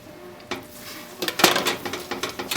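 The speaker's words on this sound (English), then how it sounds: "And then we're going to add a cup and a half of peanut butter." Peanut butter being added to a pan for no-bake peanut butter cookies, heard as close metal clinks and scraping of a utensil against the pan, with a burst of rattling clatter midway and no talking.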